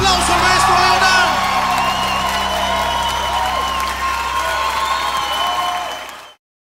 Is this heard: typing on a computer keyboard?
no